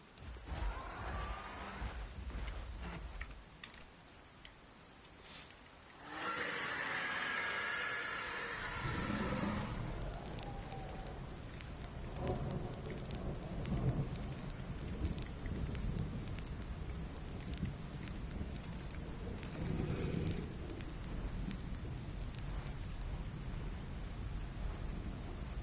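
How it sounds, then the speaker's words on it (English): Rain pours steadily over a stretch of Jurassic-style survival gameplay, with rumbling thunder and a swelling wash of storm noise joining partway through, continuous and fairly close. "Oh, it's raining."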